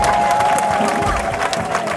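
Church congregation applauding at a choir service, a dense steady wash of clapping from a crowd, loud and continuous, with a sustained tone running beneath.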